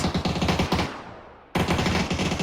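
Rapid automatic gunshots in PUBG fire in a steady stream, stop for a moment with a fading tail, then resume just as loud and close.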